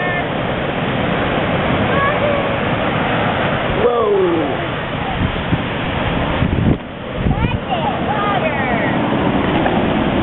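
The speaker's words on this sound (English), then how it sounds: "Oh, look at that big wave." Ocean waves break and wash onto a beach, a constant rushing surf with gusting wind buffeting the microphone, rising and falling as a larger wave rolls in, with voices faintly in the background.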